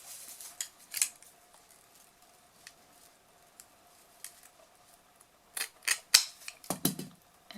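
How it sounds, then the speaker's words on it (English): Scissors snip the edge of leopard print sinamay for a millinery pillbox loop, giving a few crisp cuts at the start and a quick cluster of snips and handling rustle near the end. "So actually I forgot to snip off this edge."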